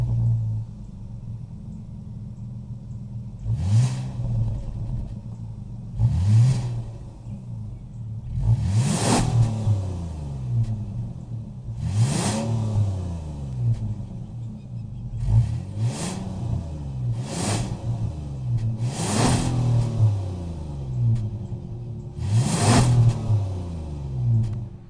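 Kia 3.5-liter V6 from a 2023 Kia Carnival LX idling with a low rumble, then blipped repeatedly in eight or so sharp revs that rise and fall back, heard close from behind the vehicle.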